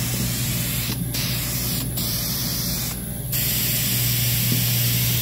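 A can of sprayable lacquer primer spraying in a loud, steady hiss that is close up and runs almost without a break, with brief pauses in the nozzle.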